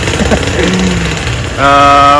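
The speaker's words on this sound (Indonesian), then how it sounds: "mohon maaf ya suara motor." Motorcycle engine idling close by, starting abruptly near the end as a loud steady harmonic drone after a stretch of background noise and voices, in an outdoor setting where bonsai trees are shown.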